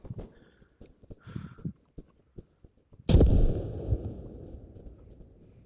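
Video game mortar fire: a sharp, loud blast lands midway with a rumbling tail, after a run of scattered lighter thumps and clicks, while players talk.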